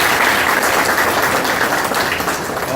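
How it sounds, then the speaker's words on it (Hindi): An audience at an outdoor dental camp in a garden claps loudly and continuously, dense even applause from a nearby crowd with no talk over it. "इसलिए एक बार जोरदार तालियों से डॉक्टर"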